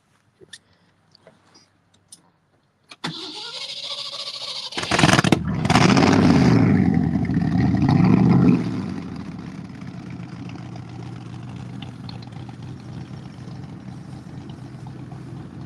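Ford V8 in a classic muscle car cranking with a few clicks, catching with a loud revving roar, then dropping back to a steady, rumbling idle close by.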